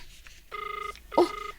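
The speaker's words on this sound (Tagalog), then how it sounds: "Agriring manang." A phone ringing during a call to a lost cellphone, two short electronic ring tones with a brief gap, clear and fairly close.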